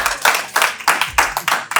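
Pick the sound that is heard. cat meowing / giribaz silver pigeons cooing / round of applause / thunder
round of applause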